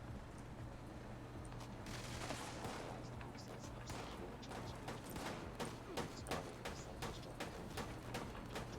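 Gunfire in Fallout 76 comes as faint, distant bursts of rapid shots, growing denser toward the end, over a low hum with some voices.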